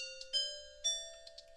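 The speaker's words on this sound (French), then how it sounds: "Ça va être carillon." Carillon chimes played back in MuseScore ring out as a few clear, sustained bell-like tones with sharp struck onsets, heard alone.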